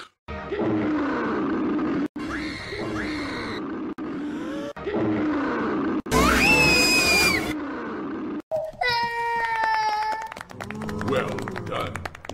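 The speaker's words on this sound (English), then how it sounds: "No, now, give us a big, loud roar." Monster roar sound effect for Sulley from Monsters, Inc., several loud growling roars of varied pitch in abrupt edited bursts, some squealing and cartoon-like, mixed with sharp cuts and a brief clatter near the end.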